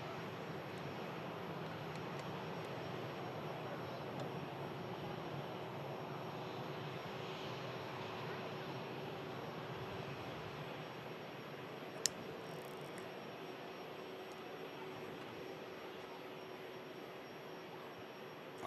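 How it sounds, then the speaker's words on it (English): A jet aircraft landing at Manchester Airport produces a steady, distant engine roar with a faint whine, unchanging across the stretch, with a brief click partway through and no talk. "we do have the Emirates ATR about to touch very, very soon indeed"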